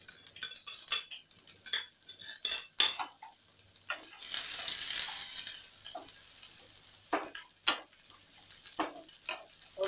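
Onions dropped into a hot pan and stirred while making momos, a sizzle with a louder steamy hiss in the middle, broken by sharp metal spoon clinks and scrapes against the pan.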